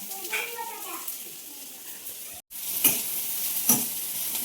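Onion and chili frying in a hot pan for egg bhurji, a steady bright sizzle with a brief cut partway and a couple of sharp spits, continuing without talk.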